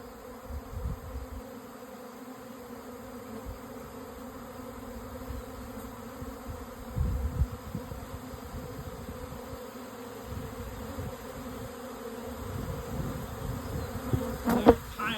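A swarm of honeybees buzzes around a hive box outdoors, a dense, steady droning hum from many insects close by, with louder passes as individual bees fly near.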